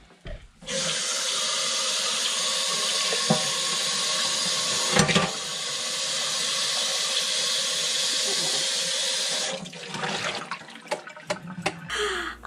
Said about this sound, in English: Then I rinse out my container and I'm done.